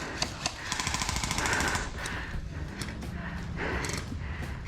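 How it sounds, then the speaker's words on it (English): Rapid full-auto airsoft gunfire at an outdoor field during a team deathmatch, bursts of fast mechanical rattling with sharp clicks, some close and some farther off, with faint voices in the background. "Taking heavy fire from this way."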